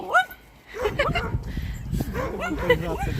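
A dog on an Irish cattle farm gives high yips and whimpering barks in quick bursts, fairly close, while people talk over it.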